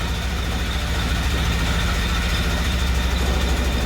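An old Bedford CA ice cream van engine idles steadily with a low, chugging rumble, loud and close, with no voices.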